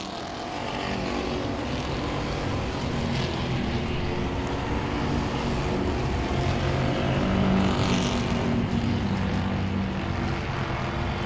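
Super street race cars roar past on Langley Speedway, a dense, continuous engine drone swelling slightly as the cars pass, with no talk over it.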